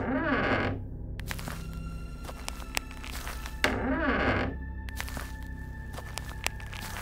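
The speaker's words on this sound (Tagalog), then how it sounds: "ang tunog ng isa-isang bumubukas na pinto ng cubicle" Cubicle doors creak open one after another in a gas station restroom: two drawn-out eerie creaks separated by soft clicks and thunks, staged as a horror effect.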